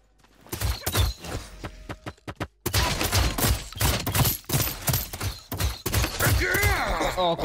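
Bursts of gunfire in the video game Realm Royale, rapid shots and volleys breaking out in clusters over a busy, loud game soundscape.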